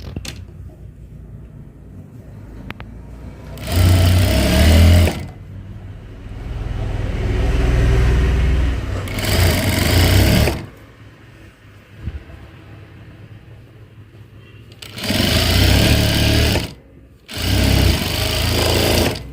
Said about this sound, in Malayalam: ഇതുപോലെ ഒരു ചെറിയൊരു ബോർഡർ പോലെ നമ്മൾ തിരിച്ച് തയ്ച്ച് കൊടുക്കും.